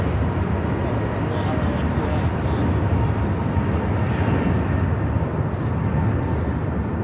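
A Delta Airbus A350-900 takes off from runway 25 left at Phoenix Sky Harbor airport, with loud, steady, broadband jet roar filling the whole stretch and a voice heard faintly under the engine noise.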